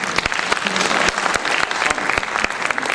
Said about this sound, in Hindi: निरंतर तालियों के साथ अभिनंदन अभिवादन